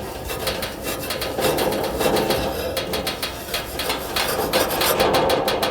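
Steel wool scrubs metal on a vent-free gas space heater in rhythmic back-and-forth rasping strokes, close and steady.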